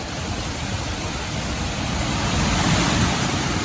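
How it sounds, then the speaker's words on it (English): Hurricane Milton's strong wind gusts roar as a steady, loud, broadband rush that swells stronger partway through, with no voices. "I mean, we're getting pretty good gusts."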